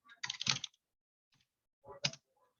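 Keys typed on a computer keyboard in two short bursts of rapid clicks, close and clear, separated by a near-silent pause with one faint tap.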